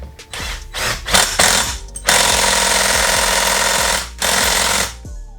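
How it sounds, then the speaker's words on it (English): A 12 volt cordless impact wrench tightens a fork bolt on a Honda XR 200 dirt bike, with short rattling bursts followed by a long sustained hammering run, a brief pause, then another burst, close up and loud. "Now this is a 12 volt impact, so it's pretty weak."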